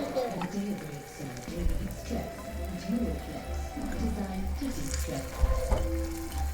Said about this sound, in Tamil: வெங்காயம், தக்காளி, பூண்டு, பச்சை மிளகாய் எல்லாமே வதங்க ஆரம்பிச்சிருச்சு